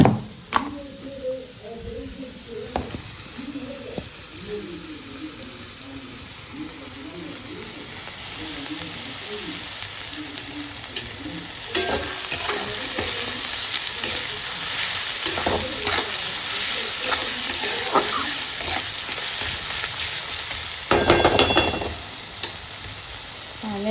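Onions and rice fry in a pan, giving a soft sizzle that grows louder and steadier, with occasional sharp scraping and stirring strokes; a faint voice is heard early on.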